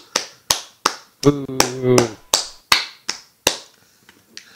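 Sharp, evenly spaced claps ring out one at a time, close and crisp, with a brief vocal sound in the middle.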